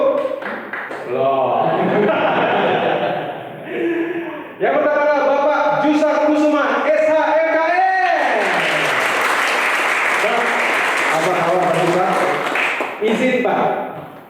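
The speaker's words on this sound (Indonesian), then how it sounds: "Kita berikan tepuk tangan yang pertama untuk" Audience applause welcoming speakers at a Christian marriage seminar, a broad wash of clapping that swells in the middle while music and a voice over the sound system run alongside it.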